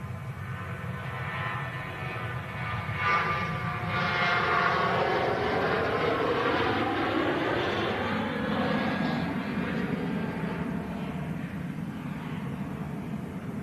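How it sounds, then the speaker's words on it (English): Ryanair jet airliner on its takeoff roll at Manchester Airport, a steady loud engine roar swelling and rising in pitch as it accelerates, with broad rumble throughout and no talk. "There you go, Ryanair on the takeoff roll."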